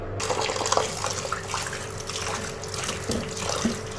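Running water splashes steadily, like a tap filling a bowl while cut potatoes are swished and rinsed in it, close by and continuous.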